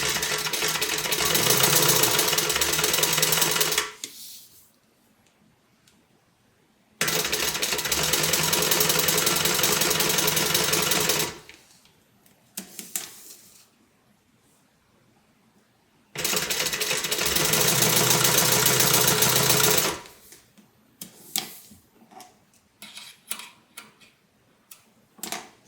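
Sewing machine top stitching a multi-compartment tote bag, running in three long steady bursts of about four to five seconds each, separated by quiet pauses with light handling noise, close and loud with no talking.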